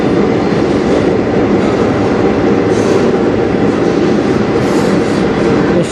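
A mixed freight train rolls past close by on the Strathroy Subdivision near Sarnia, a steady loud rumble of wagons with faint wheel clatter and occasional squeal, continuous throughout with no talking.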